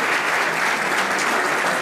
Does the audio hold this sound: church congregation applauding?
yes